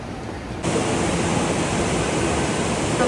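The cold Parvati river at Manikaran rushes steadily as a dense, even hiss of flowing water. It starts a little softer and then swells to a constant, close roar.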